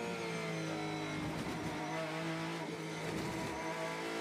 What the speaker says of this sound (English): Here's the 22 car making a pit stop.